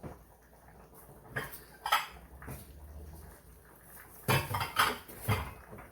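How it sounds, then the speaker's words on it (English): Dishes, pots and pans clatter and scrape while being washed during spaghetti cooking, with cutlery clinks and louder metallic knocks in irregular bursts, close by with no talking. "Sometimes I'll clean dishes as I'm cooking."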